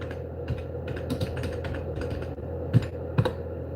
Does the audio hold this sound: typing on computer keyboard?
yes